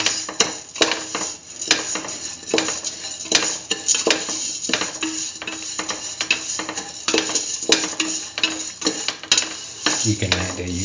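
Vermicelli pasta and peach pieces are sautéed and stirred in a pan, with a steady sizzle and repeated sharp clicks and scrapes of a utensil against the pan all the way through.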